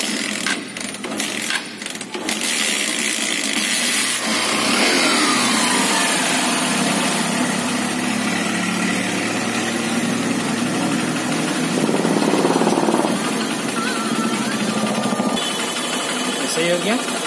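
A Honda Shine motorcycle engine idles after tuning for a low-rpm problem. It gives a steady, close mechanical rumble that runs unbroken throughout, with a brief rattle near the start and a voice faintly underneath.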